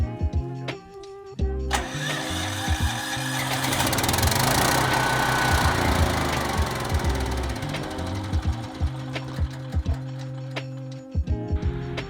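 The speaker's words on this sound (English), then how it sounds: "Plug in the spark plug and turn on the motor" Ridgid portable generator engine, one leaking gas from its air filter, starts up and runs at a steady mid-pitched drone in a garage, loud and close, with mechanical clanks at the start and end.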